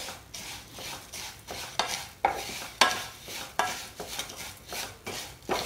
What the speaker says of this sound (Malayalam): ഇനി നമുക്ക് ഒന്ന് കണ്ടിന്യൂസ് ആയിട്ട് ഇളക്കി കൊടുക്കണം